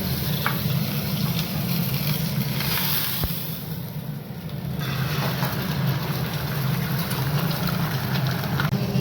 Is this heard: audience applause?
no